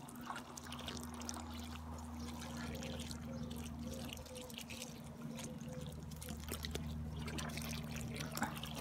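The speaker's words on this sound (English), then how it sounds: "I'm going to get a watering can, fill up these holes." Water poured from a watering can into dry planting holes in a garden bed, a soft continuous trickle and splash under a low steady hum, fairly faint.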